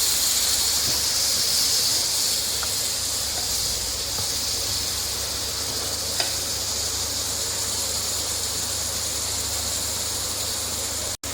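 Onion and tomato masala for egg chukka sizzles and hisses steadily in a pan, a constant frying crackle with an occasional faint stir or clink and no talking.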